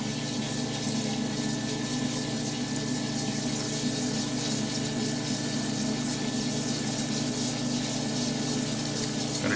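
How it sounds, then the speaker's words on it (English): A lathe turning at 300 RPM parts off a titanium end cap with a hand-fed blade, under a steady, unbroken wash of coolant spray and machine hum at constant loudness. "we're going to go ahead and part off this exit end cap. Got the parting off blade set up. Going to be running at 300 RPMs with coolant."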